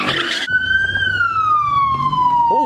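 A police car siren wails loud and close at a car meet, opening with a harsh burst before settling into a long, slowly falling tone over background engine noise.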